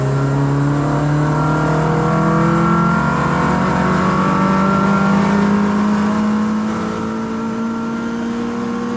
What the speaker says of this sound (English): that RS6 didn't pull away as much as I thought it would